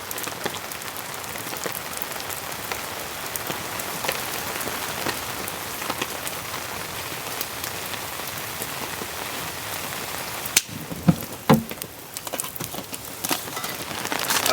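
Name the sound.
heavy rain on a van while camping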